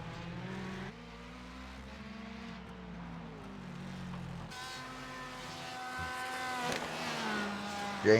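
Sports race cars at Detroit in a racing simulator game: droning engines shifting through gears with stepped pitch changes, a louder car passing closer in the second half, and a sharp burst at the very end, fairly quiet overall with no talk.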